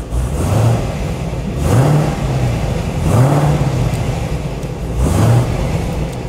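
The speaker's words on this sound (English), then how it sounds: "watch what happens when I hit the throttle" A car engine revved repeatedly as the throttle is blipped during a tune, four rising sweeps in pitch about every one and a half seconds over a steady idle rumble, loud and close with no talking.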